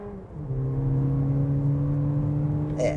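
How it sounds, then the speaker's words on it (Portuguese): Volkswagen Nivus GTS engine pulls hard on a straight, a sustained mid-pitched roar that steps up and then holds steady and loud, with a brief higher squeak near the end. "o ronco do motor já ficou diferente"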